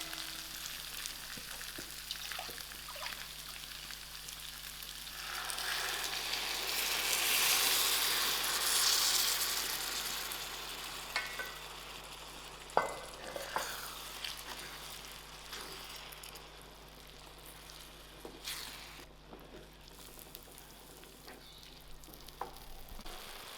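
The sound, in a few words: stock poured into frying rice for seafood paella, sizzling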